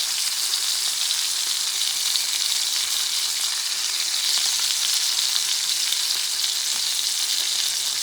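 Garlic sizzles in melted butter in a cast iron pan, a loud, steady, close hiss of frying that runs on without a break.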